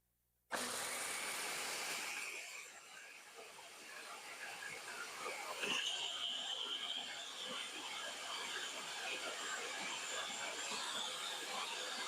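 A blender purees a rosemary and smoked paprika mixture, starting abruptly into a loud, continuous whirring roar that holds steady for the rest of the clip.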